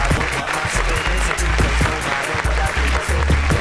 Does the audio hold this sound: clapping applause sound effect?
yes